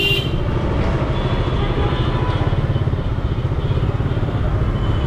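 Motorbike riding through city traffic in Dhaka from Basabo Kadamtala toward the Buddhist temple road, a steady close engine drone with continuous road rumble throughout, no clear talk over it.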